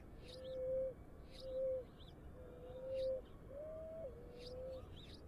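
A pigeon coos in four or five soft, repeated calls at a steady pace, each a short hollow note, faint against a quiet background.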